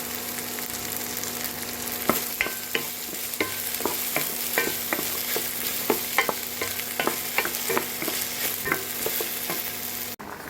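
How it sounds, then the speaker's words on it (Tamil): Okra sautéing in oil in a pan with a little coriander powder, a steady sizzle running throughout while a utensil scrapes and stirs in frequent sharp strokes, close and fairly loud, with no talking. "இப்போது வெண்டைக்காய் நல்லா வதங்கிடுச்சு"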